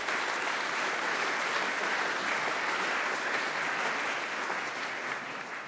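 Sustained applause from a conference audience at PyCon UK 2023, a dense, even wash of many hands clapping continuously at steady loudness, fading slightly at the end.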